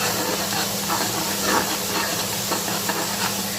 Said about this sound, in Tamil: இந்த இஞ்சி பூண்டு ராஸ்மல் போகிற வரையும் நல்லா வதக்கிக்கிடுவோம்.